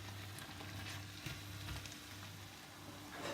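Chicken for satay, seasoned with salt and pepper, fries in a pan with a constant soft sizzle and occasional stirring knocks, close but fairly quiet.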